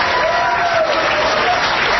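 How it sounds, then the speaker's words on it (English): An audience applauds in a brief, dense burst of clapping that holds steady and loud for about two seconds. "Everyone's applauding, but meanwhile, they're applauding you."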